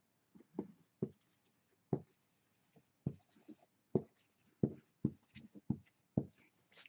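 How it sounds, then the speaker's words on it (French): Marker or chalk writing numbers on a board, a series of short scratchy strokes and taps at an irregular pace, close and fairly quiet with no talking. "J'écris très mal."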